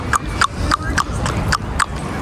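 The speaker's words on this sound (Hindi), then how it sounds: "वहाँ देखें घोड़ा गाड़ी आ रही है।" Horse hooves clip-clop in a steady rhythm as a horse-drawn carriage passes close by on a city street, six sharp evenly spaced strikes over faint background noise.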